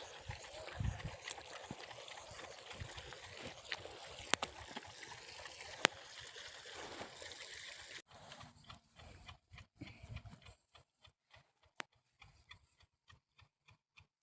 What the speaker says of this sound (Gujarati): જો અહીં પાણી ચાલુ થઈ ગયું।